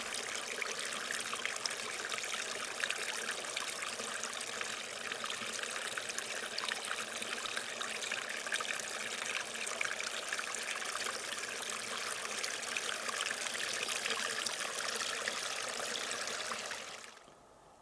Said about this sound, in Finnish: Kuvauksen päätarkoitus on veden solina ääni, puhtaana ilman tien melua.